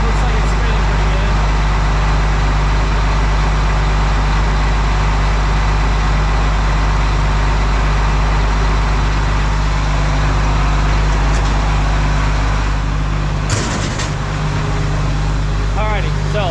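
A combine harvester engine runs steadily at idle with its radiator cleaner spinning in front of the radiator, a loud, continuous low drone holding unchanged throughout, with a brief disturbance near the end.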